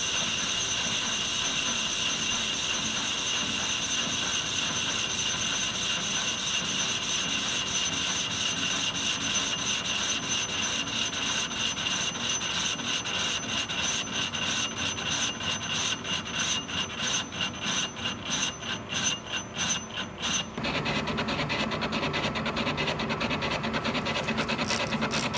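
A cast iron weight plate being machined into a flywheel on a lathe, with a continuous harsh scraping cutting noise that grows rougher and more pulsing as the uneven casting comes off, no voices.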